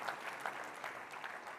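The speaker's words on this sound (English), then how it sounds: "This is the moment to clap." Brief burst of audience applause at a GraphConnect 2022 tech keynote, a quiet, distant patter of many hands clapping in a large hall for under two seconds.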